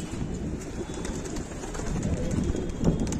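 Pigeons coo amid steady wind noise on a rooftop loft as the weather turns stormy, a low murmuring bird sound running continuously through the gusts.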